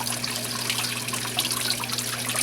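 Even sheet of water running over the cone of a fine gold recovery bowl, a steady close trickling wash with a low constant hum beneath, no talking.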